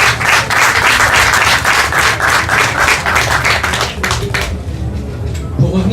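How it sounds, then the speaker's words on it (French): Audience applause rings out at a human rights debate in Morocco for Khadija Riyadi, dense and loud at first, then tapering off toward the end. "je vous demande de l'applaudir parce qu'elle le mérite amplement"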